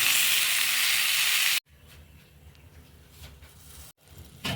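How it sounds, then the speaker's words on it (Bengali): Frying in ghee in a pan: a loud, bright sizzle for about a second and a half, then an abrupt cut to quieter crackling and bubbling, with another brief dropout near the end. "এখন আমি এই যে ভাজতেছি, আর একটু ভাজা ভাজা করবো, ঘি দিয়ে ভাজছি।"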